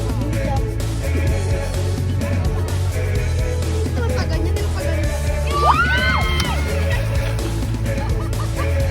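A crowd of people yells and screams during a mini jump, loud voices and whoops rising over steady background din with a sharp rising shriek near the end.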